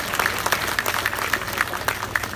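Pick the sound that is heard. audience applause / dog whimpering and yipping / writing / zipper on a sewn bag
audience applause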